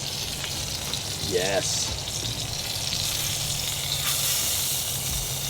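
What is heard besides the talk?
filet mignon sizzling on a grill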